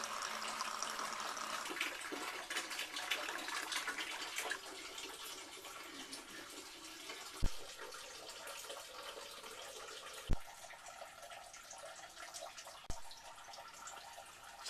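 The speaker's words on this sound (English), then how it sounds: "Now we're just going to see how long it takes to drain all the water out." Water steadily draining out of an aquaponics grow bed, a continuous broad trickling rush that weakens slightly partway through, with a few sharp faint knocks.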